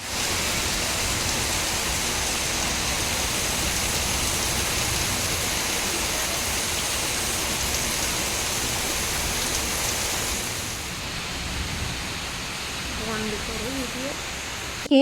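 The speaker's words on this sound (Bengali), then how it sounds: "তো এখন একটু কম আছে বৃষ্টিটা, তবুও বৃষ্টি হচ্ছে।" Steady rain falling outside, heard from a balcony: a dense, continuous hiss that stays loud and even throughout, easing slightly near the end where a faint sound enters.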